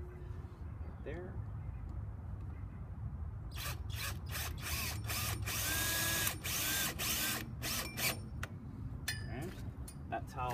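A power drill drives number 8 3/4 self-tapping screws into a Harbor Freight carport frame, with loud whirring bursts, metallic clinks and brief pauses between screws, after a quieter stretch of handling noise.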